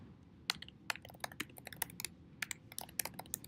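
Rapid, uneven typing on a computer keyboard during a coding lecture: a steady stream of sharp, close clicks and taps with no talking.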